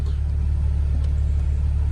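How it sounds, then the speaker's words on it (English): An Audi B8.5 running after a low-pressure fuel pump install, a steady low engine rumble at idle, loud and close, constant for the whole stretch. "Car started right up."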